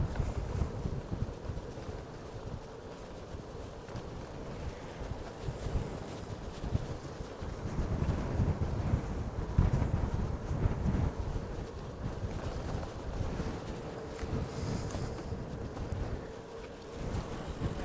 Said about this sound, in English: can hear the wind ripping